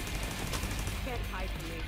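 Rapid gunfire in The Division 2, bursts of automatic shots crackling continuously over a noisy battle mix, fairly loud and close with a voice briefly audible.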